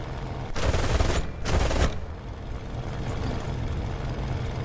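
Aircraft machine gun fire in a Stalingrad winter air combat game, two dense loud bursts of rapid fire about a second apart over a constant engine drone, no talk.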